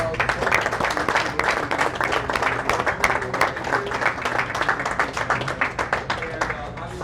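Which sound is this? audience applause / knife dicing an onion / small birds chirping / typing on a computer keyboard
audience applause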